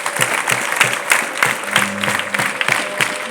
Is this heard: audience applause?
yes